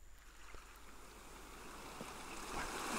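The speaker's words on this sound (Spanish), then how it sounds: "Vemos que efectivamente es un sonido de olas del mar." Recorded ocean waves play back quietly, a soft wash of surf that slowly swells louder toward the end, with no voices over it.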